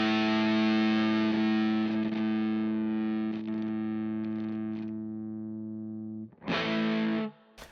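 An electric guitar played through a cheap distortion pedal with the gain turned down to a milder crunch, a sustained chord ringing out and decaying, then a short fresh strum near the end.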